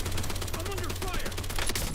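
Rapid automatic gunfire in the Black Ops 7 shooter game rattles on without pause, dense and loud, with voices and game effects mixed underneath.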